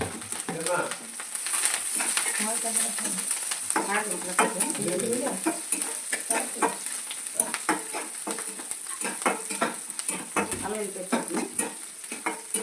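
Green chillies, onions and curry leaves fry in a pan for a fish curry, with a steady sizzle and spatula stirring scrapes all through, while a voice talks over it.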